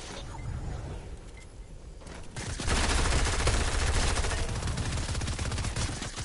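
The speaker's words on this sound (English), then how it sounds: "they're spamming with pistols" Pistol gunfire in a video game comes as rapid, dense bursts of shots that swell louder partway through and keep going to the end.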